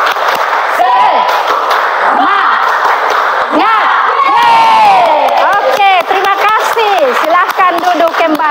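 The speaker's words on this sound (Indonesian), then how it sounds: "kita tepuk semangat untuk membangkitkan semangat dalam diri kita masing-masing" A class of students shouts and cheers together in a loud, continuous burst as they perform a group clapping chant, their voices rising and falling as one crowd.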